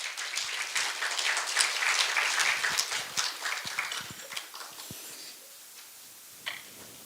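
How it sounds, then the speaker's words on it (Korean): Applause from the crowd at a Buddhist press and culture awards ceremony as a monk is brought to the stage. Loud, dense clapping at first gradually thins to scattered claps and dies away. "여러분 큰 박수 부탁드립니다"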